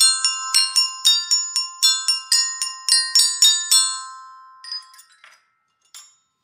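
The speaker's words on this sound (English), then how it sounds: "The iPhone ringtone with three mallets." The iPhone ringtone tapped out with three mallets on a bright, bell-like metal instrument, a quick, steady run of ringing notes lasting about four seconds, followed by a few sparse, fading strikes.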